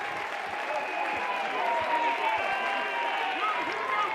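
A college baseball crowd at Tennessee versus VCU roars and yells in a steady, sustained wash over a possible balk by the pitcher, with a commentator talking over the noise.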